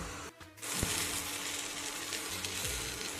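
Mustard eggplant curry sizzles steadily in a covered pan, a continuous soft hiss with a couple of faint knocks against the cookware.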